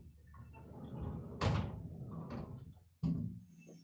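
A door in a room used for a classroom lesson is opened or closed, giving two sharp wooden thuds a second and a half apart over a low, muffled background.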